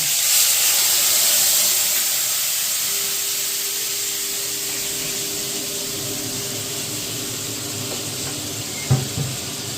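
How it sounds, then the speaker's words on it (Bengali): Spices fry in oil over a low flame for a fish curry, giving a loud, steady hiss that eases slightly, with a faint clink near the end. "মশলাটা দিয়ে এবার আমি একটু হালকা করে তেলের সঙ্গে মশলাটা ভেজে নেব।"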